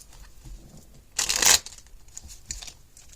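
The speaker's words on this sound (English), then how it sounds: "I just shuffled your cards face up." Tarot deck shuffled in a single short papery riffle burst, close and crisp, in an otherwise quiet room.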